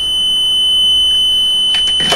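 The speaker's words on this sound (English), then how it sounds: "you have a red light here and you have an alarm going off" An electrical wire fire detection system sounds its alarm, a steady high-pitched electronic tone held throughout, with brief rustling bursts near the end and no talking.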